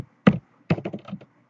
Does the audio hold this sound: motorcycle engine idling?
no